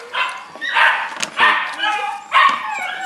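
Small, well-kept puppies bark and yip in short bursts, three clusters of high yelps close by, with a person talking softly among them.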